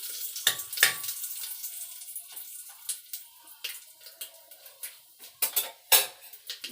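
Cumin seeds and bay leaf tempering in hot oil for a home-cooked lunch. A soft, steady sizzle runs throughout, broken by sharp clinks and scrapes of a spoon against the pan, close and fairly quiet.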